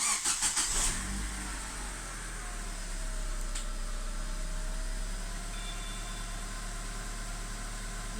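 An LPG-equipped car with a gas-pressure sensor fault, slightly cooled down, being started: a short burst of starter cranking, then the engine catches and settles into a steady idle nearby.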